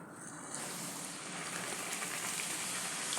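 Masala puri sizzling steadily in hot oil, a dense, even crackle and hiss that stays close and loud throughout with no talking.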